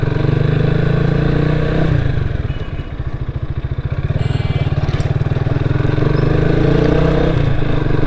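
A motorcycle rides along a road in Comilla, its engine a loud continuous close drone with rhythmic pulsing and slight throttle changes under wind noise.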